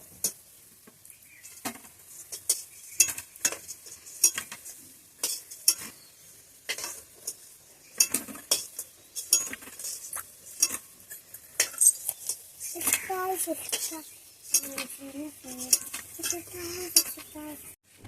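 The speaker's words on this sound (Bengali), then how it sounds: "বড়াগুলো আমি খুব সুন্দর করে ভেজে নিয়েছি। এখন একটা একটা করে নামিয়ে নেব।" Fried curry leaf pakoras are lifted out of a pan of oil one by one, with repeated close clinks and scrapes of a utensil over a soft sizzle, and a voice briefly talking partway through.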